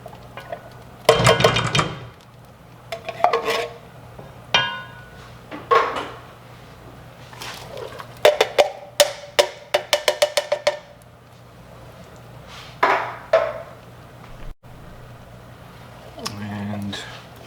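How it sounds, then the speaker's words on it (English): Six cans of black beans emptied into a pot with coconut milk, onions and garlic for vegan Cuban black beans, giving wet plops, metallic can clanks and scrapes in scattered bursts. "Now we're going to add our 6 cans of black beans."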